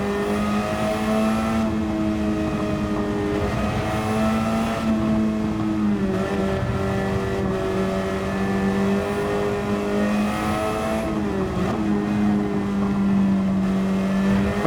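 A race car in Gran Turismo 7 takes corners in the rain, its engine droning and revving steadily throughout, with pitch dropping and climbing again through gear changes. The sound is loud and continuous, with no talking.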